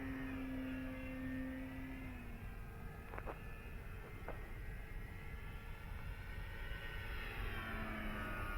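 A Dynam Waco radio-controlled model biplane flies overhead, its electric motor giving a steady, thin buzzing drone that holds throughout, with faint pitch shifts as it passes.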